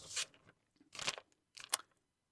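Close, quiet crunching of Pumpkin O's cereal, three distinct bites or chews separated by short silences.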